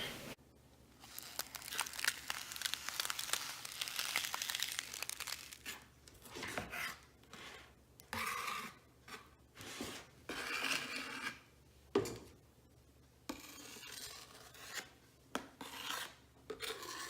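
An offset spatula spreading homemade marshmallow, making soft scraping and rasping strokes in an uneven rhythm, close and fairly quiet, with brief pauses between passes.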